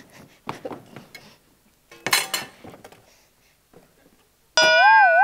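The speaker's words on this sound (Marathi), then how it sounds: "गॅसवरचा तवा काढ आणि तेल ठेव" In a kitchen comedy sketch a griddle is lifted off a gas stove, with quick clatters and clinks of metal pots and utensils, a brief burst of clanging, then a loud sustained ringing tone at the end.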